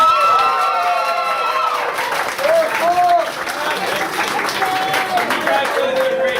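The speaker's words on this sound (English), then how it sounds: "the entire stock group can stand up, and we'll give you a big round of applause" Lively applause with some cheering at a Peltz Shoes company Memorial Day party as the stock group stands, a crowd clapping steadily while voices call out and talk over the clapping.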